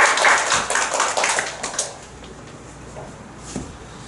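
A church congregation at a Sunday morning service claps together in a brief burst of applause that fades after about two seconds, followed by quiet room sound.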